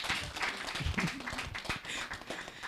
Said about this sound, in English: let's clap for our special guest